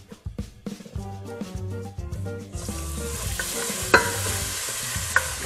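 Cold fish stock being added little by little and stirred into a flour roux in a pan, a soft wet stirring and scraping with low sizzling that builds louder and hissier partway through, with a couple of sharp utensil clinks.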